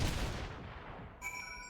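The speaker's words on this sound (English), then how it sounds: "It's probably a bad idea to make explosions under a giant rock." Blast beneath a giant rock in Final Fantasy XIV, a loud booming burst that decays over about a second, followed by a brief ringing shimmer, with no voices.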